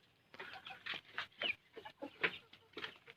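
Chickens being fed on a farm give a series of short clucks and squawks in uneven bursts, fairly close and moderately quiet, with no talking.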